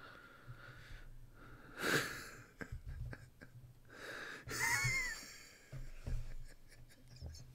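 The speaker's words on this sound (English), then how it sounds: "The heavy breathing is so good." Close, breathy sounds come in uneven bursts of heavy breathing and wheezy sniffs, separated by brief quiet moments.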